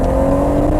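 A de-catted BMW M140i with a loud exhaust accelerates, heard from inside as a steady, droning engine roar with a strong low hum, close and loud for under a second.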